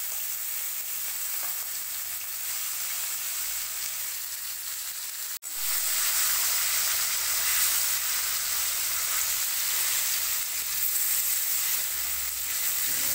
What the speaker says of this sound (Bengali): এবার একে একে মাছগুলো দিয়ে সুন্দর করে ভেজে নেব।